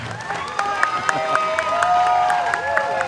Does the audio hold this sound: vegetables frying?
no